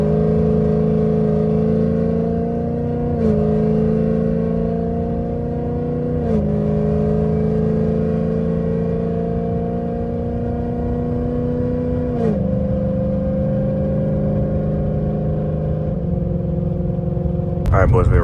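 A loud 2024 Ford Mustang GT with an illegally loud exhaust revs and accelerates hard on a back road, pitch climbing steadily through several gear shifts, close and powerful throughout.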